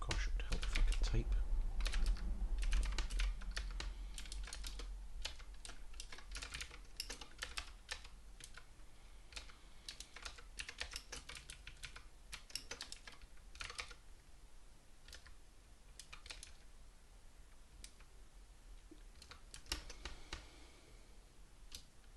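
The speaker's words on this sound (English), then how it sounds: "it would help if I could type" Rapid, uneven bursts of clacking keys on a computer keyboard, close and fairly quiet, with pauses between runs of typing and faint speech mixed in at times.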